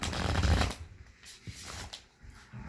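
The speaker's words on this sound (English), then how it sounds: "This is our last shuffle here." A deck of tarot cards is shuffled, a quick burst of riffling followed by softer taps and shuffles, close by with no talking.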